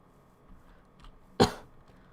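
A single sharp cough from a person with an irritated throat breaks an otherwise quiet room, loud and abrupt, with faint background noise around it.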